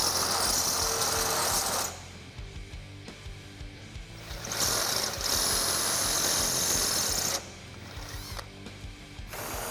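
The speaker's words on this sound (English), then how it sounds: "take a step bit and step this hole up to a 1/2 inch" A power drill with a step drill bit grinds steadily through metal, enlarging a hole to half an inch during a Jeep Wrangler JL suspension lift install. Its whirring, ratcheting tone rises and drops as pressure changes, with brief pauses between passes.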